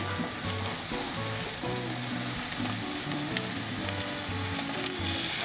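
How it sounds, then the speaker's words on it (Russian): Minced-meat brizol frying in a pan, a steady dense sizzle close up with a hum underneath and occasional small pops, continuous and alone. "Теперь сюда отправляем мясо."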